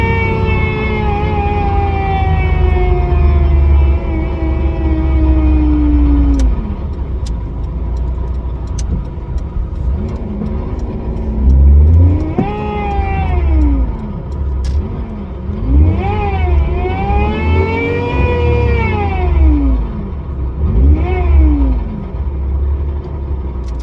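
A supercharged Daewoo Matiz engine revs hard at full throttle, a loud, steady drone with rising and falling sweeps as the revs climb and drop repeatedly, close up and with no talking.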